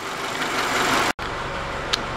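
A Honda car engine idles steadily just after a radiator replacement, a close, even hum broken by a brief cut and a small click.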